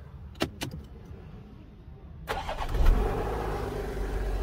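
Car fitted with 1900 amp super capacitors: a few sharp key and switch clicks, then a quick starter crank catches and the engine fires up, settling into a steady close idle.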